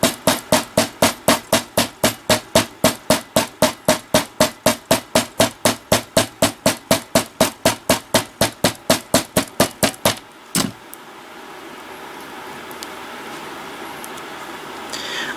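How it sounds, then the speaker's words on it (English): A hammer strikes wire jig earring loops flat in a fast, steady series of about forty sharp metallic taps. The taps are close and loud, then stop abruptly, leaving quiet room tone. "So you have to flip it over and hammer the other side"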